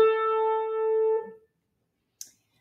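A piano plays a melodic third, two notes one after the other. One clear tone rings and fades out close by, followed by a faint click.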